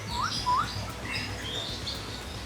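A parrot in an aviary housing about twenty bird species gives several short, sharp rising chirps and whistles at moderate distance over a soft background hiss, with no talking.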